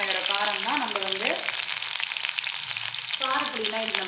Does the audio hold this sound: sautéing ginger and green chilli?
yes